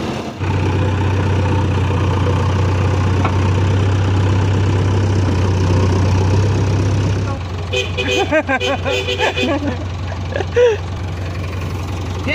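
A four-wheel tractor idles at a vehicle recovery scene in Rolpa, Liwang, giving a loud, steady low drone for about seven seconds before it drops away into quieter mixed clatter and faint voices.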